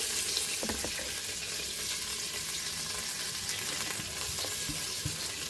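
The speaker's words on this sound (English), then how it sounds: "now we have to fry our onion" Steady crackling sizzle of onions frying in hot ghee and oil, continuous and close, with a few faint clinks of a utensil stirring.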